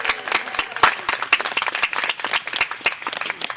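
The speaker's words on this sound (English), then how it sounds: "So I want to give you guys a round of applause." A small crowd at an Occupy New Hampshire open mic gives a round of applause, with sharp, uneven individual claps close by and a cheer mixed in.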